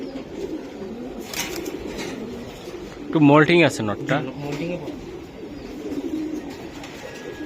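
Several racer pigeons keep up a soft, steady cooing drone close by, and a voice cuts in loudly for a moment in the middle before the cooing carries on alone.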